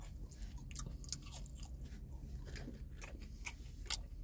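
Crunchy fries from Charley's Cheesesteaks are bitten and chewed close up, giving a quiet, steady run of crisp crunches with no talking.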